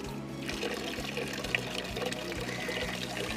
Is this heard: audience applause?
no